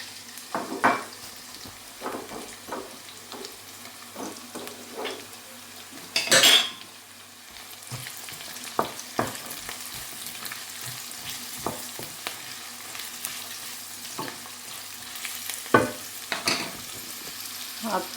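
Onions sizzle and fry in a pan, with scattered clinks of a utensil stirring and scraping against metal throughout.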